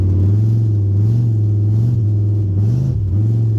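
A Pontiac Firebird with an aftermarket exhaust idles close by with a deep, steady rumble, a low droning exhaust note and a slight dip near the end; no talking.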